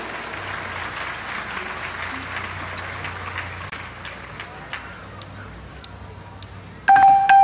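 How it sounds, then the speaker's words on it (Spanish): An audience gives a loud welcome to the marimba group Hermanos Zúñiga. Crowd applause sits under background voices and fades partway through, and a short electronic beep tone cuts in at the end. "Recibámoslos con un fuerte aplauso."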